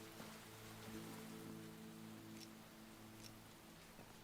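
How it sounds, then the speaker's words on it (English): Steady rain falls in the video game Enshrouded, a soft, even patter on surfaces with a faint low hum beneath, quiet and continuous with no voices. "It's raining, bees."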